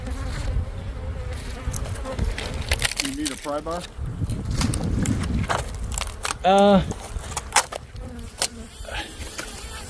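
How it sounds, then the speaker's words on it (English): A swarm of killer bees buzzes around a hive tucked in a tree, a continuous close drone with bees zipping past loudly now and then, under short exchanges between people and some rustling movement. "Killer Bee Hive, that's the slaughter ranch."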